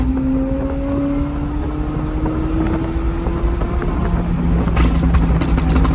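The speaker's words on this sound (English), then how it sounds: "The exhaust on this car is crazy." A McLaren 720 exhaust drones loud and close, its tone climbing steadily as the car pulls, with wind buffeting the microphone throughout and no talking.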